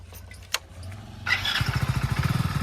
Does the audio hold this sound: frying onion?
no